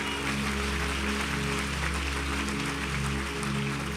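A congregation at a Portuguese-language church service applauds, a steady layer of clapping over a low, humming musical drone, moderately loud and continuous throughout.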